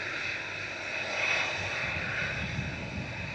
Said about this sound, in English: Just about to go in front of us is Ryanair to Belfast